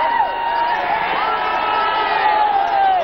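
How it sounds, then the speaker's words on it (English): A large crowd of mourners gathered at Rajaji Hall in Chennai cheers and shouts continuously as a helicopter passes overhead, a steady roar of voices with no clear rotor sound standing out. "the crowd's just gone crazy here because a helicopter has just flown overhead"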